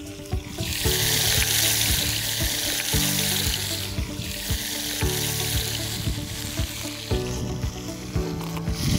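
Vegetables go into a pan of browned meat and red pepper, producing a loud, steady sizzle with clattering stirring throughout.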